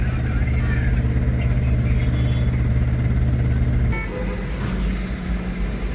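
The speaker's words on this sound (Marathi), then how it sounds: "फुल ट्रॅफिक जाम झालेली बघा." Cars and motorbikes sit idling in a traffic jam at the Vijay Mamta signal junction, a dense, continuous engine rumble close by with a few horn toots and some background voices.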